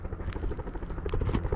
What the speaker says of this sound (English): I think I see a helicopter over there.